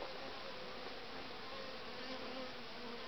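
Honeybees swarm around a hive entrance, a dense steady buzz that stays close and loud throughout with no voices over it.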